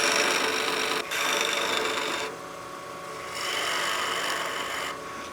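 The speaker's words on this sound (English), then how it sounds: "let's use our spindle gouge now to get this center point down to where we want it." A spindle gouge cutting wood on a lathe while shaping a turned witch block head, a loud continuous close scraping hiss that briefly pauses and shifts in intensity as the tool is moved.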